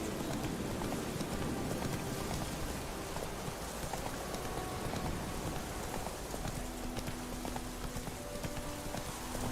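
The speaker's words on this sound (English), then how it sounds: "Let it rain. Pouring like this on the boat." Heavy rain pours steadily onto a boat, a dense continuous wash of drops and patter that stays loud and even throughout, with no voices.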